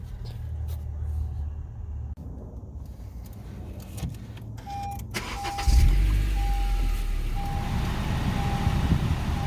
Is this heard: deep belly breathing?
no